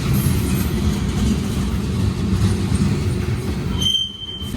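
A Union Pacific freight train of tank cars rumbles past up close in North Platte, heavy low rolling noise from the cars with faint metallic squeals, dropping off sharply near the end.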